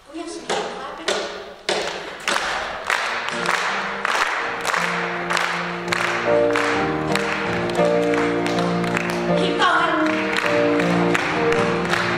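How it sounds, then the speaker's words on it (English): An audience claps at a Friday night concert, starting with a few loud scattered claps that build into steady, dense applause from the crowd over a held musical drone. "Can we have some people clapping?"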